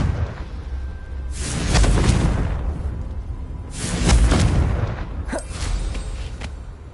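Confringo spell blasts in Hogwarts Legacy, heard as three deep rolling explosions spaced a couple of seconds apart, each swelling with a whooshing rush and fading into low rumble.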